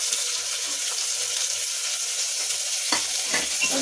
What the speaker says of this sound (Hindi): अब मैं इसमें ये प्याज डालूंगी